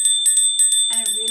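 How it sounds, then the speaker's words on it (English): A bell from India rings in a quick series of bright, high metallic strikes, repeated several times up close, with a voice starting to speak toward the end. "This is a beautiful bell from India."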